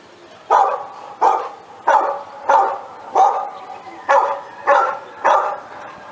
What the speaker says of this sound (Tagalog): Yung tahol.